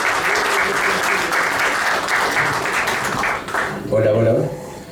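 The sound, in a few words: audience applause at book talk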